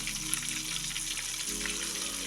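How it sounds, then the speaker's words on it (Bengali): Chicken pieces fry in hot oil, a steady, close bubbling sizzle with crackling spatter that carries on evenly throughout, no voices present. "এই যে তেল গরম হয়ে এসেছে, এরপর আমি দিয়ে দিচ্ছি মাংসের"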